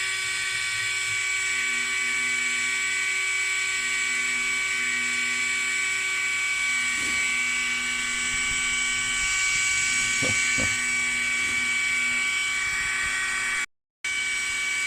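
A Ferranti aircraft horizon gyroscope spins at up to 24000 rpm: a loud, steady high-pitched mechanical whine with a droning hum underneath, continuous throughout, with a few brief clicks and a short dropout near the end.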